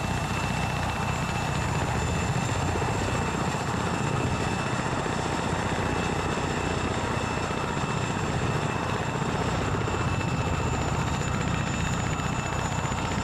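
Helicopter engine and rotor in the Arma 3 video game, a constant loud turbine whine with steady rotor thrum, close and unbroken for the whole stretch with no talk.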